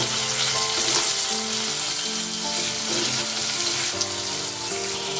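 Onion and chopped tomato with turmeric fry in a pan for a papaya and prawn curry, giving a constant close hiss of sizzling oil with soft background music underneath.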